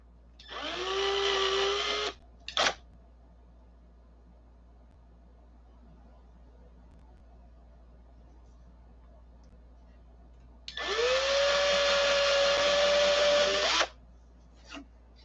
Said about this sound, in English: Of course, we're going to drill down anyway some